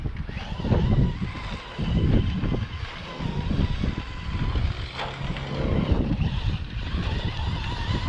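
A Traxxas Stampede RC truck with all-steel transmission gears runs at full throttle on a track, a loud, continuous rough motor whine with wind buffeting and no pauses.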